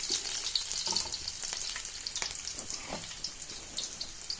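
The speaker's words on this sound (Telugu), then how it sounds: "ఆయిల్ వేడిన తర్వాత తెల్లగడ్డ వేసుకోవాలి." Chopped garlic frying in hot oil for an amla pickle, a steady close sizzle with faint scraping and stirring over it.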